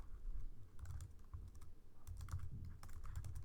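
Quiet typing on a computer keyboard while writing Java code, with soft, irregular key clicks in quick runs and no talking.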